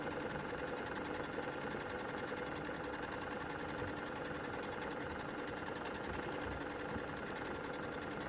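A sewing machine runs steadily while stitching a garment neckband seam, a continuous fast mechanical whir and patter that holds at an even level throughout with no pauses.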